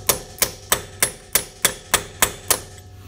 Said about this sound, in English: So I'm gonna get the little chisel again, and I'm gonna put a little bit more of a grippy mark in it